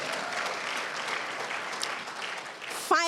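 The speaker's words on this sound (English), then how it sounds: "I thought you would clap for that" Audience clapping at a women's conference, a steady wash of applause from a crowd that eases off near the end before a voice cuts in.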